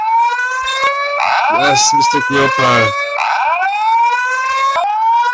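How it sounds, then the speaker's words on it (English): A fire alarm in a cartoon classroom wails loud and continuous in rising and falling tones, while a chorus of young voices answers in the middle of it. "There is a fire alarm went on."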